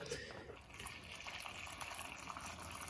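Distilled water is poured into a batch of rice flour for brewing makgeolli, a close, steady gushing and trickling under a voice.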